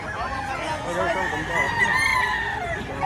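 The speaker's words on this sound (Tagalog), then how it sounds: "Kagandang manok nito." Roosters crow in long drawn-out calls among clucking chickens at a poultry market in Lipa, fairly close, with a busy crowd murmur underneath.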